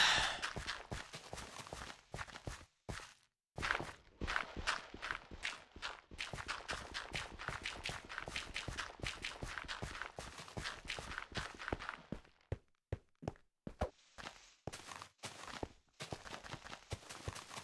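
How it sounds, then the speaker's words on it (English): Rapid, evenly spaced footsteps in Minecraft, a long run of crisp close clicks with a few short pauses, fairly loud. "I love how loud our footsteps are"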